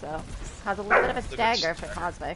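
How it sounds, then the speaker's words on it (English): Dogs bark and yip in the background, fairly faint and intermittent, while a commentator talks over an esports match broadcast. "Sorry for the dogs, chat."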